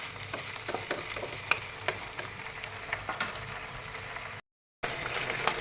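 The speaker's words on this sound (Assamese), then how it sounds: "মাংসখিনি ভাজি ল'লোঁ, দি তলপৰ কৰি এনেকৈ লৰাই দি দিছোঁ।" Local chicken meat frying in a pan while being stirred, a steady soft sizzle with repeated light scrapes and clinks of the spatula, fairly quiet and close with a brief dropout near the end.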